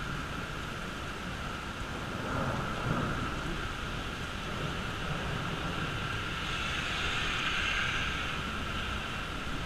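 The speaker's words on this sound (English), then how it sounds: "I hope you can see that rain coming down." Heavy rain pours steadily during a thunderstorm as a constant broadband hiss, with a faint low rumble swelling midway that could be distant thunder and no voices.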